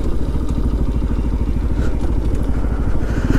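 Benelli TNT 135 motorcycle engine chugging steadily while riding near Lake Woodlands, a close, constant mid-pitched drone with a rapid low pulse and light wind noise, no pauses throughout.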